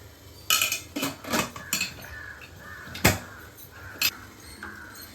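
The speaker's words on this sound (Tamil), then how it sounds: "இப்போ மூடி வச்சிடலாம்." A metal lid set down on a pot of steaming kozhukattai rice dumplings, giving a few sharp clinks and clatters of metal on metal, close and fairly loud, with quieter handling knocks between them.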